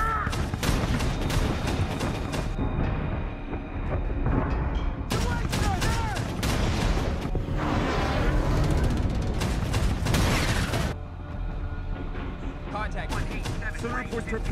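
Warship guns firing in a naval battle from Greyhound, the 2020 film, heavy booming blasts layered with dense score and shouted commands throughout, loud and continuous across the scene.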